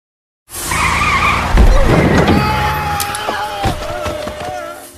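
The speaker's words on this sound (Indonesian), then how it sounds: "tiba-tiba sebuah mobil yang dikendarai Jamal menabrak Tony" A car skids with squealing tires and slams into someone during an action scene in an Indian film, a sudden loud screech and impact followed by sliding, scraping and clattering, with no talk.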